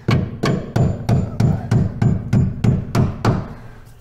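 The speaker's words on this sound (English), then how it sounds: "Mallet is better because you're not gonna mushroom the bolt." A mallet strikes a threaded pin into an MGB front suspension, about ten sharp metallic hammer blows in an even, steady rhythm, close and loud, with no talking.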